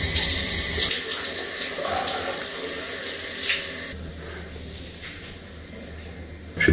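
Hot water runs from a campsite shower, a steady close rush of spray that changes tone partway through and drops to a softer flow.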